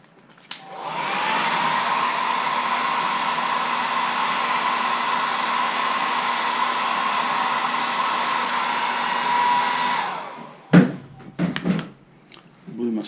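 A hair dryer drying highlighter paint on a carved wooden caricature letter opener starts up and blows in a steady, loud hum for around nine seconds before cutting off; brief knocks and rustles follow.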